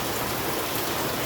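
Heavy rain falls steadily in a dense, even hiss of drops, with no voices over it.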